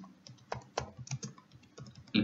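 Someone typing on a computer keyboard: sparse, close key taps in an irregular rhythm over a couple of seconds, ending in a slightly louder cluster, with no talk.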